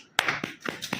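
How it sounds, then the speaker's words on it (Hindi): A few separate claps or hand taps from an audience at a Hindi devotional talk on bhakti, each sharp and brief, spaced unevenly rather than forming sustained applause, moderately close and not loud. "ताली मारें एक बार प्लीज"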